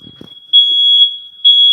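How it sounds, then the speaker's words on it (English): A smoke or fire alarm sounds in two loud, piercing high-pitched beeps, the first held for nearly a second and the second starting after a short gap. Brief low voices are heard just before it. "It's a fire alarm."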